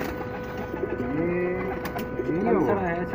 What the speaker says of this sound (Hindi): तो ये ओरिजिनल चंदा खानी कबूतर है दोस्तों, रामपुर के